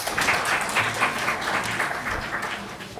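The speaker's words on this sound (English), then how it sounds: "A big applause for you." Audience applause welcoming a speaker onto the stage at a Huawei Digital Talent Summit, a steady wash of many hands clapping for about three seconds, moderately loud and without talk.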